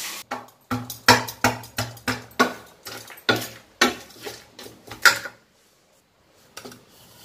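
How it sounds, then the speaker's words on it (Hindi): Dry fruits for winter laddoos are pounded by hand, about a dozen sharp, evenly spaced knocks in a steady rhythm, close and fairly loud, before the pounding stops and quiet follows. "ये देखिए ये पूरा मेवा जो है मैंने खुद इसको अच्छे से कूट लिया"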